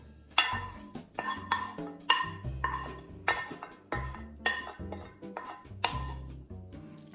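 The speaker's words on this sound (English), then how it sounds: "now I'm gonna put my roasted red peppers and onion mix" Roasted red peppers and onion mix is spooned into a bowl in a home kitchen, making a rhythmic series of light clinks and scrapes of utensil against dish, repeated about a dozen times at a quiet level.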